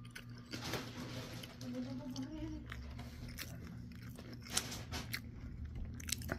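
Close, soft crunching and chewing of Chick-fil-A onion fries, steady bites and mastication under faint background noise.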